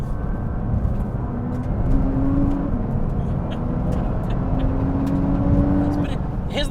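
A 600bhp Nissan GT-R R35 cruising on British B roads, heard from inside as a steady low engine and road drone with mild rises in revs, while someone talks over it.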